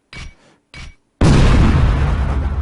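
A grenade explodes in an Unreal Development Kit (UDK) game: two short muffled bursts, then a loud, sustained roaring blast that fills the rest of the moment with no voices.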